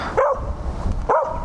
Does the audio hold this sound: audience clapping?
no